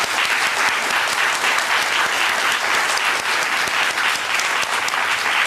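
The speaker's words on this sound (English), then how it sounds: "Let's give them a big round of applause." Steady, full applause from an audience at a literary reading event, filling the room evenly and continuously from start to finish with no voices standing out.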